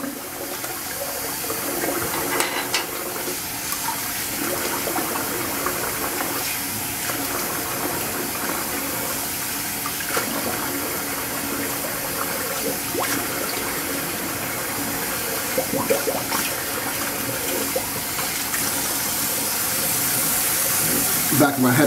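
Running water pours steadily from a tap while someone rinses off after shaving, a loud continuous splashing rush close by that fills the whole stretch without letup.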